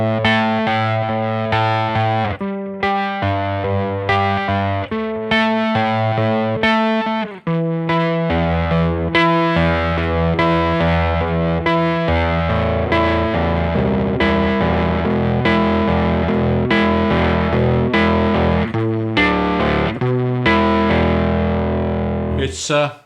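Electric guitar chords through an EarthQuaker Devices Hoof Reaper octave fuzz pedal, producing a thick, buzzy, strange-sounding fuzz tone with choppy strums early and longer sustained chords later, loud and up close.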